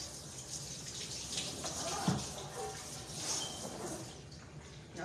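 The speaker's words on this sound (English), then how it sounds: "Let me wash my hands" Hands washed under a running kitchen sink tap, a steady broadband splash of flowing water with brief louder splashes, close by and alone.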